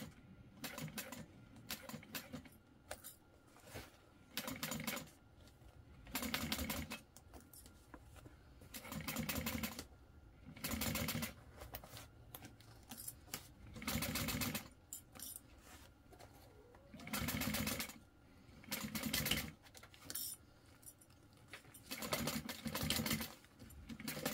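A sewing machine stitches a cork crossbody bag along its piping, running in short bursts of rapid whirring separated by pauses, fairly quiet and close with no talking.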